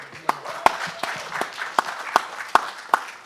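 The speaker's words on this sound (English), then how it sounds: "round of applause." Scattered applause at a boxing press conference, a handful of sharp, fairly loud claps spaced unevenly over a murmur of voices in the room.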